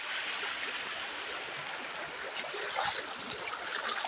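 Clear river water flowing in a clean stream, a steady broadband rush and trickle close by that continues evenly throughout, with small splashy gurgles rising near the middle and no talking.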